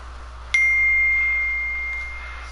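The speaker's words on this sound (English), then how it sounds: "I forgot to turn off my phone" A phone notification dings once, sharp and clear, its bright tone ringing out and slowly fading over about two seconds above a faint steady hum, with no talking.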